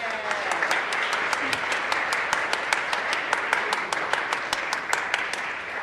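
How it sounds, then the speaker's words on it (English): An audience applauds a youth group after a completed program, with steady sustained clapping and a few sharp individual claps standing out throughout the ensemble. "let's give them one more round of applause"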